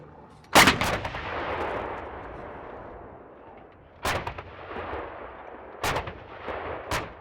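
Heavy live-ammunition artillery fire during NATO military manoeuvres near Cincu, Romania booms several times, a loud blast followed by a long rolling echo, then three more reports spaced a second or two apart.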